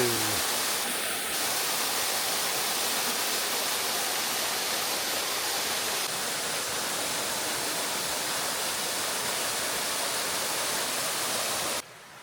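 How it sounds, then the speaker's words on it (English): Steady roar of the Fairy Glen waterfall in the Scottish Highlands, dense rushing water heard close and constant, cutting off abruptly near the end with no speech over it. "Fairy Glen Waterfalls done"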